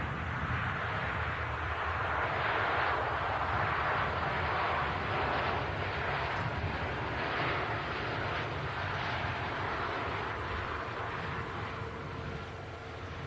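A Qatar Airways Airbus A350-1000 airliner rolls out after landing, making a broad, steady roar of engine and rushing air that holds at an even level and fades slightly at the end.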